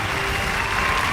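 An audience at a musical stage performance applauds in a continuous, even wash of clapping that stays close and fairly loud throughout the short moment.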